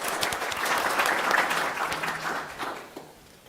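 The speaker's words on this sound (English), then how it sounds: "Give them a round of applause." Audience applause at a school board meeting, a dense crowd of clapping hands sustained at moderate loudness before tapering off toward the end.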